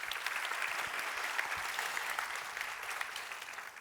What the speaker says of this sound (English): one more round of applause to our good new buddy